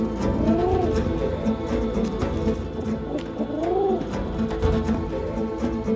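Pigeons coo in soft, repeated throaty phrases, two rounds of rolling calls close by over a low background hum.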